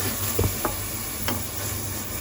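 Water sizzles and hisses steadily in a hot pan of browned lardons while a utensil scrapes the bottom in a few short strokes, loosening the caramelized bits to begin a cream sauce for coquillettes.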